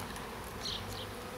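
Honey bees buzzing around a beehive entrance, a close, continuous droning hum with no talking.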